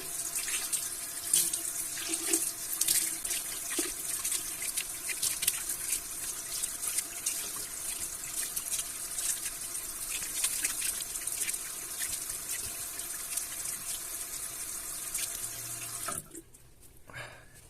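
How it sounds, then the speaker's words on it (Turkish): Tap water runs steadily into a sink while someone splashes and rinses their face after shaving, a close, continuous gush with irregular splashing, ending abruptly as the flow stops near the end. "Evet şimdi yüzümü yıkıyorum."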